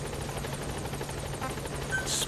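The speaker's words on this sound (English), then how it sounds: "Support helicopter has arrived." A support helicopter arriving in Metal Gear Solid 5: rotor thumps rapidly and steadily, loud and close, with a brief brighter burst near the end.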